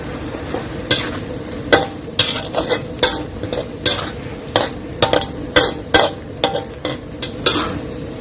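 Prawns and minced pork stir-fried in red curry paste with kaffir lime leaves, a steady sizzle broken by close, regular scrapes of the spatula against the pan, about two strokes per second, with no talking.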